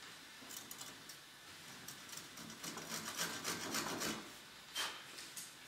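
A hand saw cuts through wood while someone stands in a boat, producing faint rasping strokes that grow denser and louder midway before trailing off into a few scattered scrapes.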